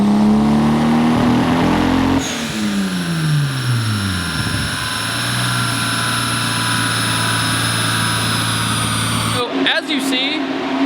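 A turbocharged Nissan 240SX engine revs hard at full throttle on a dyno, a loud close mechanical roar whose pitch sweeps down and settles into a steady drone before cutting off abruptly near the end.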